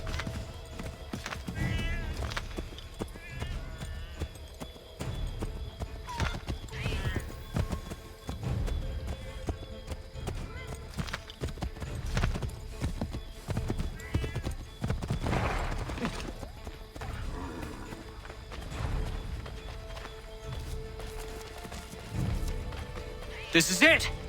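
Horse hooves clip-clop at a walking and trotting pace in Assassin's Creed 3 Remastered, mid-distance and moderately loud, with occasional whinnies and game voices talking over them.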